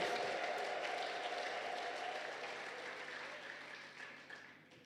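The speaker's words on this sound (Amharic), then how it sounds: "ታላቅ እልልታ፣ ጭብጨባ፣ ክብር ለጌታ ይሁን" Church congregation applauding at a prophet's sermon, a steady wash of clapping and crowd noise that gradually fades, fairly faint and distant throughout.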